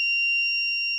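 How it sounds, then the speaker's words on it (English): Emergency buzzer of a LoRa health monitoring system, a single steady shrill electronic tone held for about a second, close and alone. "Whenever a patient clicks the emergency button, here buzzer will be"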